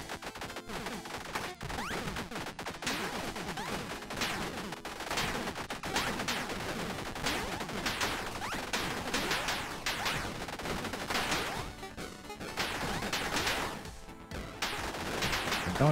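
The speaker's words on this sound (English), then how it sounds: "I don't even know what direction I'm shooting." Rapid bursts of gunfire in a zombie shooter video game, dense overlapping shots and automatic fire continuing almost nonstop at moderate level, with brief gaps.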